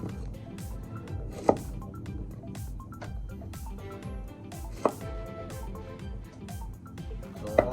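Radish being chopped on a board for sinigang, a quiet steady rhythm of knife taps with a few sharper clacks.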